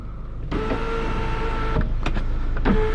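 Electric sunroof motor of a Renault Samsung New SM5 LPG car, a steady whirring hum running for about two and a half seconds inside the cabin, broken by a few soft clicks and knocks, with no talk.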